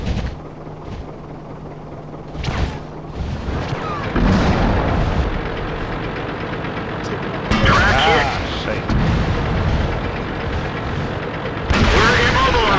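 Repeated heavy tank cannon shots in World of Tanks boom out several times over a constant engine rumble, loud and close, with in-game voice callouts in between.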